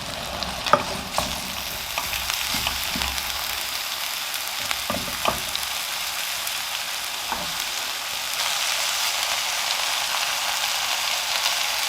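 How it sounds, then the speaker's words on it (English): Sweet potato and cauliflower are stirred through hot oil in a pan, with steady frying sizzle and scraping utensil strokes early on, the sizzle settling into a continuous hiss with no talking. "get everything coated in that lovely oil"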